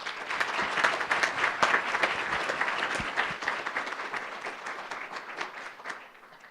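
An audience breaks into warm, sustained applause to welcome a Holocaust survivor speaker, dense clapping filling a hall at close range, then gradually thinning and fading out.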